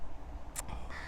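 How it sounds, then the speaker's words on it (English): A single short, harsh crow caw rings out briefly over steady outdoor background noise at a moderate distance in the garden of Falkland Palace. "I think it's crows actually that we're hearing"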